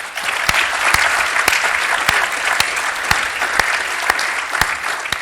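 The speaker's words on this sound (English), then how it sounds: "Please join me with a round of applause." An audience applauds panellists after a geopolitical security discussion, sustained clapping with a few sharp, prominent close claps standing out at a steady rhythm over the crowd's wash.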